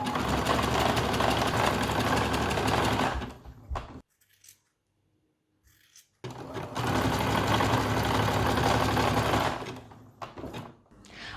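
Sewing machine running in two long stitching bursts as the side seams of a jumper are joined from cuff to hem, loud and steady with a short pause between runs and no talking.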